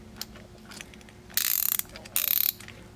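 A Gedore flex head ratchet switched to the other direction gives two short bursts of bright, rapid clicking against a quiet background.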